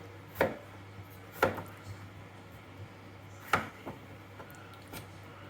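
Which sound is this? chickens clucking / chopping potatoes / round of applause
chopping potatoes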